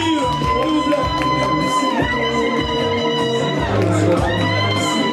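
Wedding guests cheer and shout as the couple opens the dance, a lively crowd roar with whoops layered over loud dance music with a strong beat throughout.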